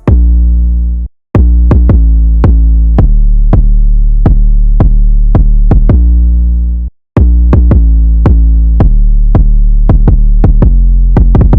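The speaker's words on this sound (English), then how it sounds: "a kick that with the 808 sound like this" Deep, booming 808 kick drums pulse loudly in a steady rhythm, each with a sustained low tail, layered with crisp clicking hits on top.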